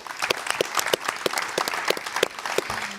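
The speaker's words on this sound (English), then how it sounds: "An applause for them as well, please." A small audience at a net-zero roadmap presentation claps, individual hand claps distinct and fairly close, an uneven rhythm sustained throughout.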